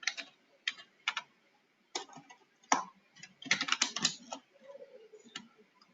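Java code being typed on a computer keyboard: bursts of close key clicks with short pauses between them, sometimes fast and clustered, sometimes single taps, and no talk over them.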